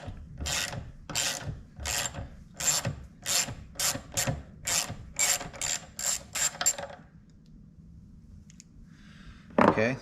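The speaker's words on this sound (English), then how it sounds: "This is a 10 millimeter nut, and now I should be able to take this off." A wrench works a 10 mm nut loose on the fork of a 2006 KDX 200 dirt bike, giving a quick series of about a dozen close, rhythmic ratcheting clicks that stop, followed by a faint clink near the end.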